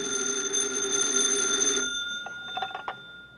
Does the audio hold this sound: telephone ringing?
yes